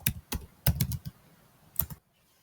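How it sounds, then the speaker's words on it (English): Computer keyboard keys tapped in a few quick bursts and single strokes, close and clear, with a short pause midway and quiet at the end; no one speaks. "So here I am typing"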